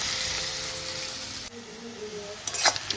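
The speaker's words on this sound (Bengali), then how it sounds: "এই যে পেঁয়াজ ভাজা হয়ে গেছে" Onions fry in a pan for a breakfast dish with a constant close hiss, then the sizzle softens and a few light stirring clinks follow near the end.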